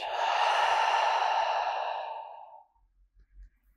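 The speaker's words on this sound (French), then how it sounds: "Une longue expire par la bouche." A single long, breathy exhale through the mouth during a yoga relaxation pose, close and steady for about two and a half seconds before fading out, followed by quiet low rumbles.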